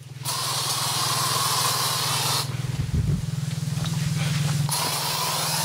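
Two long bursts of hissing insect spray from an aerosol can, the first about two seconds, a short pause with rattling, then a second sustained spray, close and loud.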